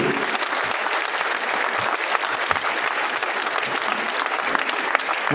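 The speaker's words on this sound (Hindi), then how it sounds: "उनके लिए भी जोरदार तालियां आप बजा दीजिएगा।" An auditorium audience at a political party gathering applauds steadily, a dense, sustained wash of many hands clapping at an even level throughout.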